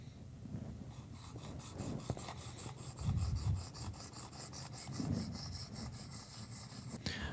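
Knife bevel being ground on a 600 grit stone in a Worksharp Precision Adjust sharpener, soft close scraping strokes repeating steadily, fairly quiet with a few small clicks and no talk.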